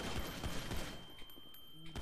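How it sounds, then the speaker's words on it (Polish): Gunfire in a police tactical video game comes as a quick string of shots early on, muffled and fairly distant, followed by sparser clicks and thuds. "Chyba strzelają"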